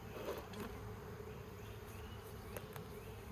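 Honey bees drone steadily around an open hive during a smoking inspection, a dense, continuous buzz at moderate level with no speech over it.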